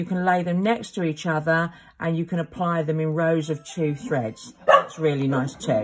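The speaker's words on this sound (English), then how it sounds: "Sorry, that's the dog just going off." A dog barks repeatedly indoors in short bursts, mixed in with a person talking close by.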